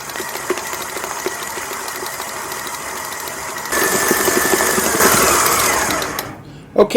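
An electric mixer beats chocolate buttercream on medium speed with a steady whirring hum that grows louder partway through, then cuts off near the end.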